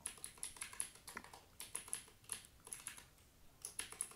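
Keys clatter on a computer keyboard in quick irregular bursts with short pauses between them, fairly faint and close, with no voices over the tapping.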